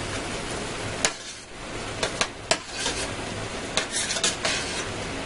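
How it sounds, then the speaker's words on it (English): Ground beef, diced onions and garlic sizzle steadily in a pan for a meat sauce, with a few scraping stirs and clinks of the utensil against the pan. "I'm going to let this fry in here while the burger continues cooking all the way through"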